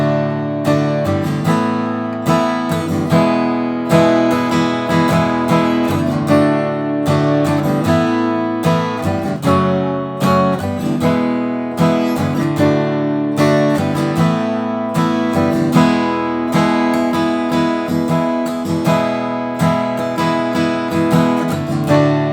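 Acoustic guitar playing a song, a steady strummed rhythm with regular chord changes, close and clear with no voice over it.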